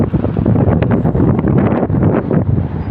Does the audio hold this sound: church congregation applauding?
no